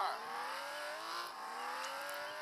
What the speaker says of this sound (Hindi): चलो गाड़ी स्टार्ट की